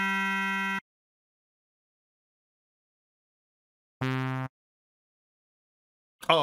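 Electronic tones from a Simon-style memory game in the DOS title Scooter's Magic Castle sound as short separate beeps, one near the start, another a few seconds later and a third beginning at the end, with silence between.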